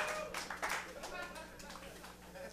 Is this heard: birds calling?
no